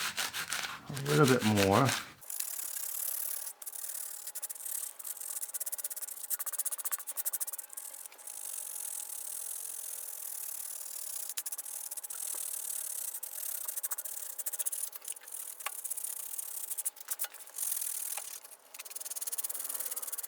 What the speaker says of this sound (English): now I'm going to go back to this rasp again and see if we can refine this